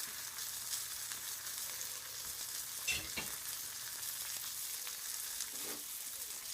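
A pork chop fries in a pan, a constant close, loud crackling sizzle with a few faint scrapes and knocks and no talk.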